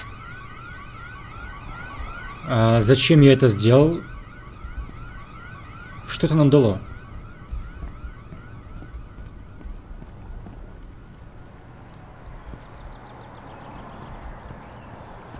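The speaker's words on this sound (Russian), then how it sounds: "Пожарная тревога." A fire alarm siren in the video game INFRA sounds in two loud bursts of wailing electronic tone over a steady background hum, then fades to quiet ambience, with someone speaking briefly in between.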